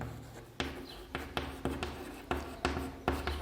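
Hand writing out a geometric construction for a similarity theorem lesson: a quick series of sharp pen or chalk strokes, close and distinct, with short pauses between them and no talking.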